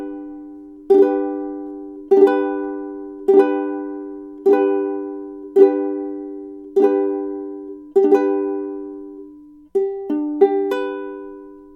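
Three-finger chord on a ukulele with the fourth string left open, strummed about nine times in a steady rhythm, each strum ringing out and fading before the next, then a few quicker strums at the end, close and clear.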